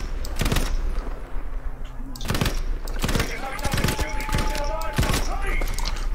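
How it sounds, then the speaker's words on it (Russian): Machine gun fire from Battlefield 5 rattles out in several sharp bursts, close and loud, over a steady game-noise bed, with a voice faintly underneath. "Пулемет есть пулемет."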